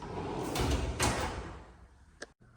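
The sliding storage compartment with eight plastic bins on a Husky 61-inch 10-drawer mobile workbench rumbles as it is pushed along its track, with a couple of soft glides followed by faint clicks as it settles.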